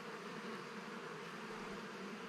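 Honeybees drone steadily around a hive frame at an apiary, a dense, soft, continuous buzz with no voices.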